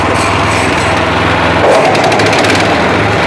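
A Weima WMX663 mulcher starts up and runs, a steady loud mechanical drone with a rising pitch shift partway through as the working rotor spins up, continuous throughout.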